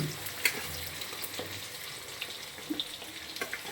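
Chopped onion frying in a pan while a chicken dish is cooked, giving a steady, close hiss of sizzling oil with a few crackles and soft stirring scrapes throughout, with no talking.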